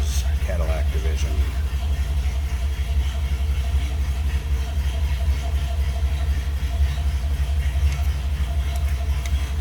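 A 1966 Cadillac DeVille convertible's 429 cubic inch V8 settles into a steady, deep idle after a brief start at the beginning, with a voice talking over the low rumble.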